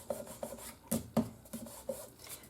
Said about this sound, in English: I'm just going to rub it on here to remove the extra adhesive I have.